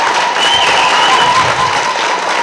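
Home crowd at a boys' high school basketball playoff game cheering and applauding, a loud, steady wash of clapping and whoops with a few sustained shouts, close and continuous throughout.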